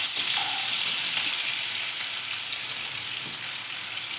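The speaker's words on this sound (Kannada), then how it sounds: "ಸ್ವಲ್ಪ ಈರುಳ್ಳಿ ಫ್ರೈ ಆಗಬೇಕು." Two lengthwise-sliced onions frying in a pan, a steady close sizzling hiss at moderate volume with a few light stirring taps, no voices.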